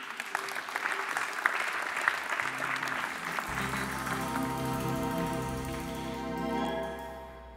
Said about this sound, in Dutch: Nou, een applaus.